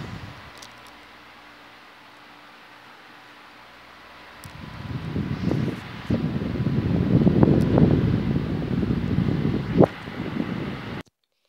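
Wind blows across a microphone outdoors, first as a low steady fan-like hum, then swelling into louder rushing gusts with rustling that rise and fall before cutting off abruptly.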